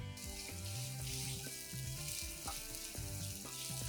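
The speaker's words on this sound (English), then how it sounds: "Saute the onions and the garlic first." Onions and garlic sizzle steadily in olive oil in a pan, a soft, continuous frying hiss with faint scraping stirs now and then and no talking.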